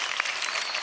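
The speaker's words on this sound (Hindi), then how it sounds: "जोरदार तालियां" Studio audience applause on a televised Indian dance competition show fills the whole brief moment, a dense, steady wash of many hands clapping at moderate loudness.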